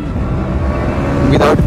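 KTM Duke 200 BS6 motorcycle engine running close by, then a quick clutchless quick-shifter gear change with a short sharp burst of revving near the end, over wind noise.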